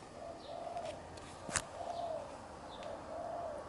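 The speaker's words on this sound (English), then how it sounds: "That bird literally comes here every morning and sits on the roof and normally makes a shit ton of noise." A bird perched on a house roof in the morning gives repeated soft, cooing calls, about three evenly spaced phrases, moderately distant over quiet room tone, with one sharp click in between.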